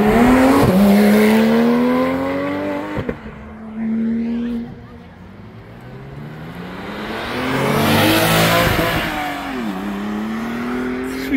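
Porsche GT3 RS and Porsche 996 GT2 sports cars launching one after the other at a supercar meeting, each engine screaming up through the revs with sharp gear changes, loud and close, then fading as the second car passes.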